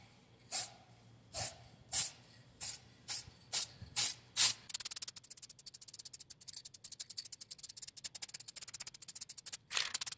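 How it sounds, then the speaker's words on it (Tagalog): Short bursts of an aerosol can spraying chrome paint onto old wheel spokes during a mag wheel restoration, about eight separate hisses, followed by a rapid run of quick, sputtering sprays. The sound is close and fairly quiet, with no talk. "We will start now our first coat by painting a chrome color."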